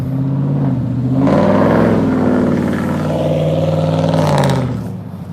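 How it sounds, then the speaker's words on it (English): A loud truck engine drones steadily close by, swelling to a heavy roar as it passes a bulldozed parking lot in Senoia, Georgia, then easing off at the end. "Really loud truck."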